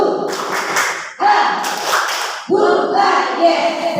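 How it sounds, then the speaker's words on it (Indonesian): A group at a school teachers' gathering performs a rhythmic 'tepuk semangat' clap in three bursts, with chanting voices mixed into the loud claps. "Tepuk semangat ya. Tepuk semangat."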